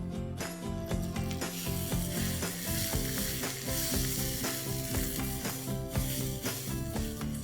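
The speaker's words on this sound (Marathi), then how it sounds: "आता त्याच्यात आपण साधारण 1 ते 2 टेबलस्पून तेल घालून कुरकुरीत होईपर्यंत परतून घेऊया" Onions frying in one to two tablespoons of oil until crisp, a loud steady sizzle with rhythmic stirring scrapes throughout, close and alone with no talk.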